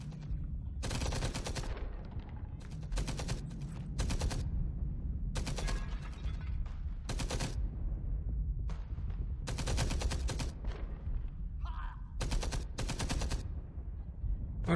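Gunfire in the World War II shooter Enemy Front, repeated bursts of automatic weapon fire in irregular clusters with short pauses between, loud and close, over a low background rumble.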